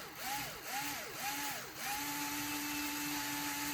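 A cordless drill run in reverse, whirring up and slowing in several short bursts before holding one steady tone, close and loud with no talking.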